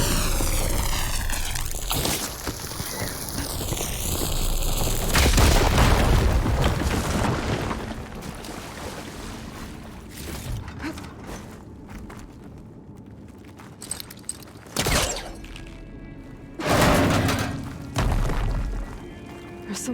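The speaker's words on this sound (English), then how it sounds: "Should be able to blow up that fire gleam." A fire gleam blown up in Horizon Forbidden West, heard as a loud booming blast with a rumbling tail, followed by lighter thuds and a couple of further sharp impacts near the end.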